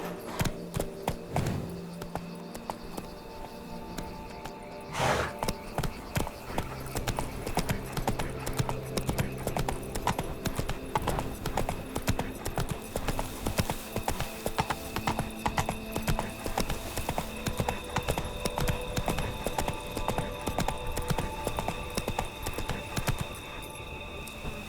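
Hooves of Geralt's horse Roach in The Witcher 3: Wild Hunt, a steady rhythmic clip-clop of a trotting game horse, loud and close throughout, with a brief whinny and a sharp impact near the start.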